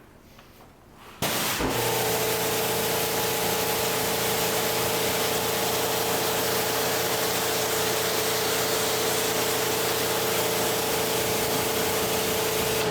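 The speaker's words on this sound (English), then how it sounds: "As I'm moving it up the panel, it's not being hit directly by the pressure washer, it's being spread by the pressure washer" A pressure washer sprays foam up a car panel during detailing, starting after a short quiet moment as a loud, steady hissing spray with a constant motor drone underneath, close and unbroken to the end.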